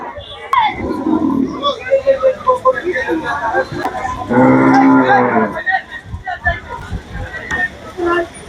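Cattle low and moo repeatedly at a busy outdoor cow and goat market in Narayanganj, with one long, loud moo standing out nearby amid crowd noise and people talking.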